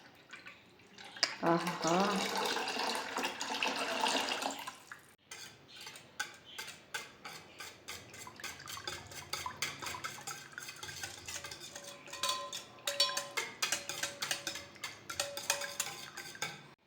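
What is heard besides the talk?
pouring buttermilk into ragi porridge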